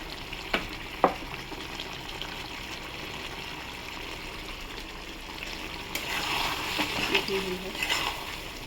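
Ridge gourd in poppy seed paste fries and is stirred in a pan, a steady low sizzle with a few sharp scrapes early on and a louder bubbling, stirring stretch near the end, with no talk over it.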